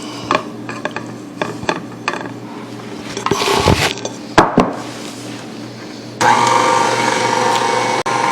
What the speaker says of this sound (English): Just blend until they're nicely combined